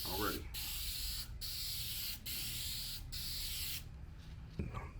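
Aerosol spray can hissing in long steady bursts while painting aftermarket hood vents on a drift car, four near continuous sprays separated by brief pauses, ending with a short clatter.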